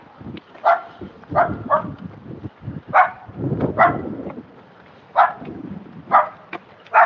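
Dogs bark repeatedly in an indoor room, a string of irregular, close barks and yips over several seconds with low rumbling between them.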